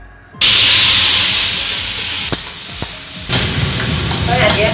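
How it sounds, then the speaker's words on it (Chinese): Oil poured into a hot wok for stir-frying king oyster mushrooms with sliced pork bursts into a loud, steady sizzle and hiss close by, with a few light clinks of a utensil. "锅中倒油。"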